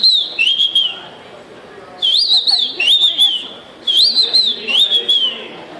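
A man whistles an imitation of the paturi marreco, a wild Brazilian lagoon duck, in four short bursts of warbling, bending high notes separated by brief pauses, close and loud, no speech.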